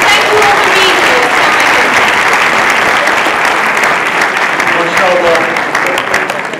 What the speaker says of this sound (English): let's thank our speakers by giving them a warm round of applause